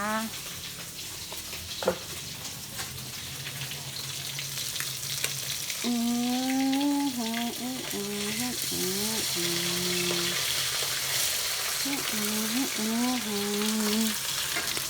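Mackerel frying in hot oil, a loud, continuous close-up sizzle and bubbling that runs steadily throughout, with a voice speaking or singing over it in the middle and near the end.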